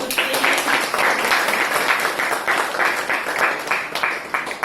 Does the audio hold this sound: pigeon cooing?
no